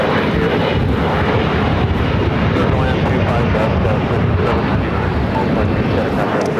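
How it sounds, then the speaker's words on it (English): An Alaska Horizon Embraer E175 jet takes off at Los Angeles airport, its loud, steady engine roar filling the air with wind buffeting the microphone. "That flight taking off Alaska Horizon, heading to San Jose, California, the E175."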